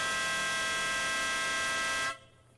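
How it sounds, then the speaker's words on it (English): A loud, sustained horn blast with steady stacked tones, like a train horn, holds for about two seconds near a road, then cuts off abruptly into low background hum. "Ooh, train horn."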